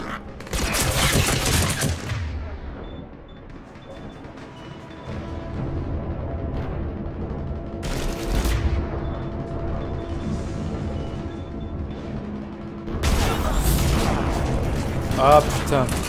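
Grenade blasts and rapid gunfire from a Mass Effect 3 firefight, with loud broadband bursts at the start, near the middle and toward the end, plus a steady rumble of combat under a voice shouting.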